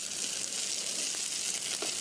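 Fish frying in a pan in a cartoon kitchen, giving a steady, moderately loud hiss with no talk over it.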